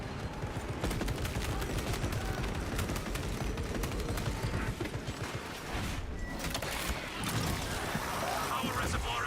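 Heavy bolt rifle fire in the video game Space Marine 2: dense, rapid gunfire and mechanical clatter run continuously and loud, with battle noise and intermittent talk over it.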